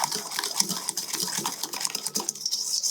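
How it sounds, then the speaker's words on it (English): A whisk beats ingredients together in a bowl for banana bread baked oatmeal, giving a fast, continuous metallic clatter and scrape, fairly quiet and steady throughout, without speech. "I'm going to give that a bit of a whisk together"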